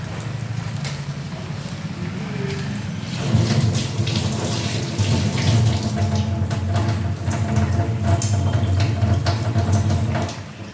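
Bay leaves washed under a running kitchen tap, a steady splashing water stream that grows fuller and louder partway through and continues unbroken.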